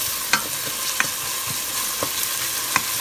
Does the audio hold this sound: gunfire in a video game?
no